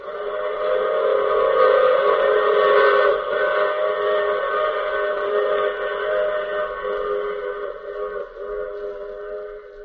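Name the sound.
train running with whistle, radio drama sound effect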